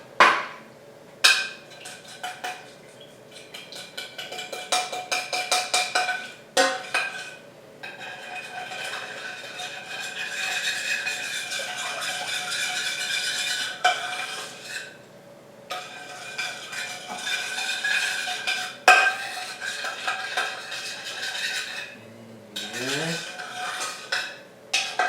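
A spoon stirs and scrapes vegan trifle custard in a pan, squashing out lumps, giving repeated close scraping and clinking strokes with brief pauses and no talk.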